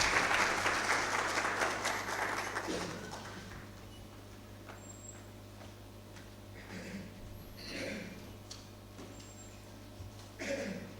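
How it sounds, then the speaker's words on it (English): A symposium audience at a youth entrepreneurship and financial inclusion event gives a round of applause, a dense roomful of clapping that swells at first, then thins and trails off into scattered claps and faint murmurs. "Can we please give him a round of applause?"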